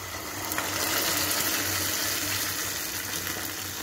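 Water is poured into cooking dal and boiled potatoes for a Kumbakonam kadappa side dish, making a continuous, moderately loud gushing splash with no pause.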